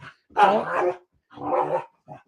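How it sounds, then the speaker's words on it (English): Dogs bark and growl close by in rough, gruff bursts, two long volleys and a short final yip, each separated by brief silence. "Dogs, please. They are having a heck of a time."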